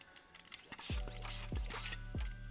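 Coolant drips slowly from an Audi B8.5 S4 cooling system being bled, with a few distinct, close drips spaced about half a second apart over a quiet background.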